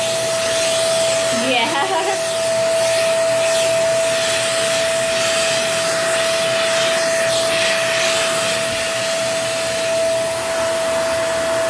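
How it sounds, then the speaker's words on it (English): A vacuum cleaner runs with a steady, loud whooshing drone for the whole stretch, its airflow shifting slightly as it moves. "I'm just gonna be vacuuming for a little bit."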